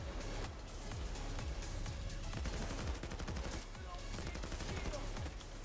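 Rapid automatic fire from a Commando 553 rifle in the video game Payday 2, loud and sustained in fast bursts, with a steady crackle of shots running throughout.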